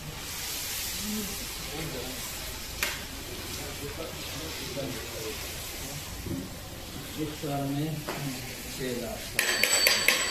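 Onions frying in a pan, a soft steady sizzle running underneath people chatting nearby, with a brief clatter near the end.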